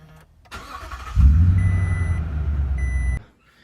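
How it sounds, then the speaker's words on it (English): The V8 of a 2021 Toyota Tundra TRD Pro starts with a deep rumble that holds for about two seconds at close range, accompanied by soft electronic beeps, then cuts off abruptly. "the best thing about this truck is the V8 sound."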